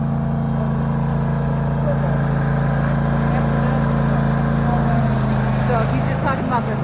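A John Deere Z655 zero-turn mower runs steadily up close with a constant engine drone, moving along a sidewalk while clearing snow, with faint talk in the background.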